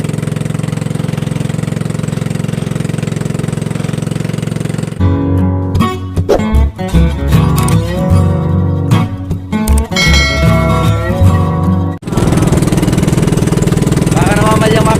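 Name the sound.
motorcycle engine running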